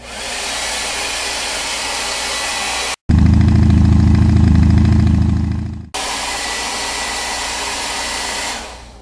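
A hair dryer blows steadily at close range to dry a piece of artwork, a loud continuous whoosh with a lower-pitched, stronger stretch in the middle before returning to the lighter airflow.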